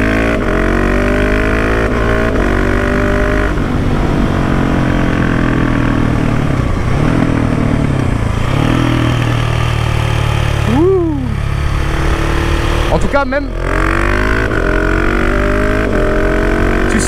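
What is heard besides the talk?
KTM 690 SMC R motorcycle engine with new Wings exhaust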